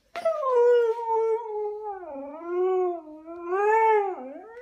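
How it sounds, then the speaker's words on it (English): A husky puppy howls and cries in long, wavering, whining notes that rise and dip, loud and close, in one sustained vocal run with no talking. "Only guilty huskies cry."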